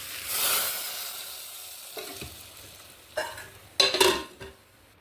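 Onions stirred into a pot of sambar curry, a soft bubbling hiss that fades, broken by a few close spoon scrapes and clinks against the pot near the end, no talking.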